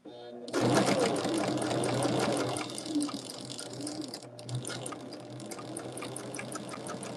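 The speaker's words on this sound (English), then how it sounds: "My bobbin is getting low. And I think I have to wind another one." Sewing machine winding a bobbin, a steady whirring motor hum that starts abruptly and continues with faint clicks, while a voice talks over it.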